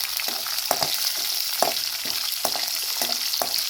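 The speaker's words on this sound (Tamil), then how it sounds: "நல்லா எண்ணெயில் வதங்கட்டும்." Green chillies sizzle and crackle in hot oil for a beetroot poriyal, a steady frying hiss with periodic scraping stirs of a spatula roughly every half second, close and alone.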